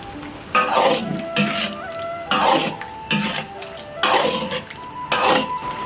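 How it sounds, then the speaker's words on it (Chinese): Squid tipped into a cooking pot while konjac and duck feet are braised Chongqing style, giving several clattering, sizzling bursts at a steady rhythm with metallic clinks, close up and fairly loud. "把墨鱼倒入锅中"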